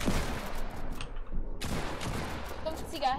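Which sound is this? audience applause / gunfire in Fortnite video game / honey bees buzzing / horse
gunfire in Fortnite video game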